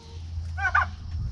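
A chicken held upside down on a farm lets out one short cluck near the middle of the moment, close and fairly clear over a low background hum.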